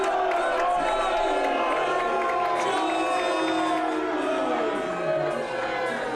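A live wrestling crowd at an MWF show roars continuously, with loud, dense shouting, jeering and whoops filling the whole stretch, close and sustained without a break.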